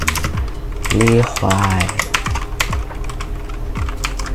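Programming on a computer keyboard, a steady run of close plastic key clicks and taps kept up under a man's speech.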